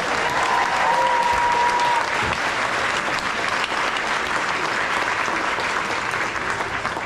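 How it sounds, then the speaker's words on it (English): A crowd applauds at a championship award ceremony, dense continuous clapping filling the room at an even, loud level from start to finish. "Give yourself a round of applause."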